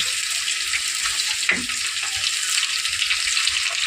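A spice paste of tomato, ground cumin and ground spices sizzles loudly in a pan for a Bengali fish curry, a steady close frying hiss with a brief stir scrape partway through.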